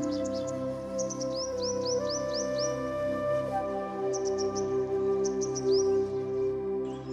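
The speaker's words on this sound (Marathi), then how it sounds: "पंचरंगी सूर्यपक्षी," Bird calls: repeated thin, high chirps and quick rising notes in short bursts over a steady lower hum and drone, moderately faint.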